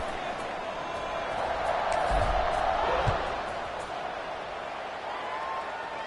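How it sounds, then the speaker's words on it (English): A college football stadium crowd buzzes after a touchdown in a Syracuse vs SMU game, a steady broad roar that swells slightly mid-way, with a commentator talking over it. "this crowd is buzzing after that last score"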